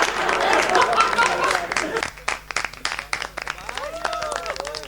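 Audience clapping at a Hindi comic poetry gathering, a burst of applause from the crowd that thins into scattered claps, with voices speaking over and after it.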